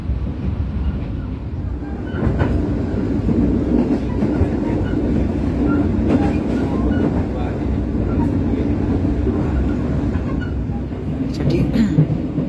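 Mutiara Timur passenger train, economy class, running from Surabaya toward Banyuwangi, a steady loud rumble of wheels and carriage noise with occasional clicks, continuous throughout, with a voice speaking faintly beneath it.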